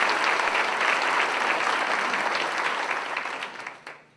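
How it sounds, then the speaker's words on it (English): An audience at a Chamber of Commerce education presentation applauds steadily, a dense clapping that holds strong for several seconds before tapering off and fading out near the end. "So let's give them a round of applause"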